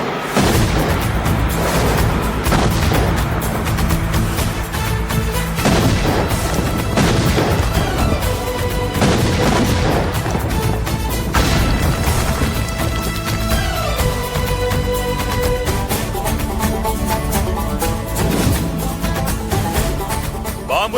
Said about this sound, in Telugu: బాంబులు ఆపుండ్రీ.